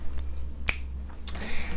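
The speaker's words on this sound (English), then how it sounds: "I want you to snap your fingers" A single sharp finger snap, crisp and close, followed a moment later by a softer second click against a quiet room background.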